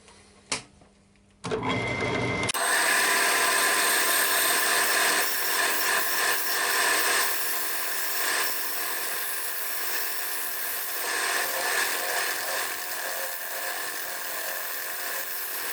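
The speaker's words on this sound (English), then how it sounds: "now I'm going to give the bowl some nice finishing cuts" A wood lathe making finishing cuts on a bowl gives a steady, loud, bright whirring hiss with a scraping edge that runs continuously after a brief quiet start, close up and without talk.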